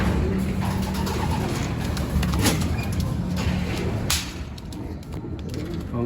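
Racing pigeons in a loft coo softly and continuously amid a dense bed of rustling and fluttering, with a few sharper clicks and scrapes, close and steady throughout.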